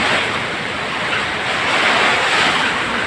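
A typhoon roars through a flooded house with knee-deep floodwater, making a loud, close, continuous rushing of wind and water that swells and eases slightly.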